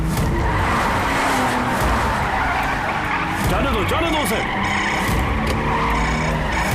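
Car tyres skid and squeal during a movie car chase, a loud screech over roaring engine noise, with a voice shouting briefly over the din.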